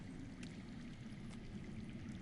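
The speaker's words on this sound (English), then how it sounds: "I hear water. From underground." Water running underground in a Game of Thrones video game: a steady low rushing stream, continuous and even throughout, moderately loud with nothing else on top.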